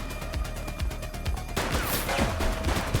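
Rapid gunfire in The Precinct video game, a dense volley of sharp repeated shots that grows heavier and more chaotic partway through, loud and close.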